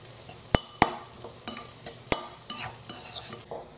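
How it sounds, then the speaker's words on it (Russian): A spoon stirs warm aubergine salad in a bowl, giving repeated clinks and scrapes at an uneven pace, close and clear with no talking. "Хорошо перемешиваем."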